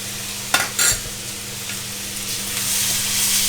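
Thai fried rice being tossed and stir-fried in a hot pan with soy and fish sauce, a loud steady sizzle that swells toward the end, with a couple of sharp scraping clatters early on and no speech.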